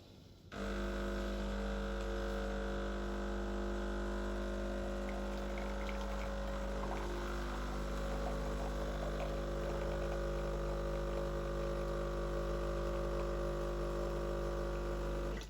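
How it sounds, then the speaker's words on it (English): Breville Barista Touch Impress (BES881BTR) espresso machine pulling a quick shot: a steady, loud pump hum with electrical drone runs continuously for about fifteen seconds after a brief quiet start, with no talking. "Alright, let's brew and have a look."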